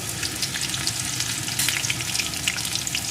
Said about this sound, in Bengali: এখন তেলটা আমার গরম হয়ে গেছে এর ভিতরে দিয়ে দেবো আমি চারটে রসুনের কোয়াকে কুচিয়ে রেখেছিলাম